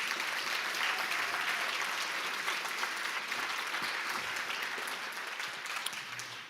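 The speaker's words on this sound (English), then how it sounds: "to give them a big round of applause" Sustained audience applause for the staff of the OHRA Center, a homeless-services organisation in Southern Oregon, dense and steady from a full room, tapering slightly toward the end with no talk over it.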